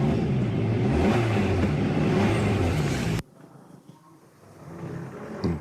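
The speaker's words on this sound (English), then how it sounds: "the second noise I'm going to make is just revving the engine" A car engine revs loudly and steadily, close by, then cuts off abruptly, leaving quiet room tone with a faint low rumble returning near the end.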